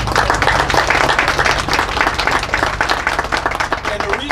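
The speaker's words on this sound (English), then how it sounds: "A big thank you and a round of applause to the Mayor." Crowd gives a round of applause for the mayor at a transfer station trucks ribbon cutting in Plainfield, steady dense clapping from many people lasting several seconds, loud and outdoor-sounding.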